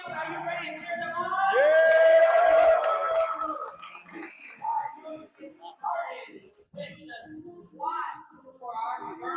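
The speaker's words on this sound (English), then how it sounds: "Are you ready to cheer them on?" A weightlifting competition crowd cheers loudly for a few seconds with whoops, then the noise settles into scattered voices and murmurs.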